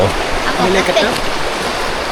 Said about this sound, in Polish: Tam w oddali jest taki troszeczkę jak wodospadzik jest.